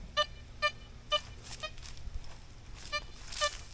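An XP Deus II metal detector in sensitive full tone mode sounds a series of short, bright electronic chirps over a buried 1920 Buffalo nickel eight inches down in a test garden, spaced irregularly and heard alone at close range.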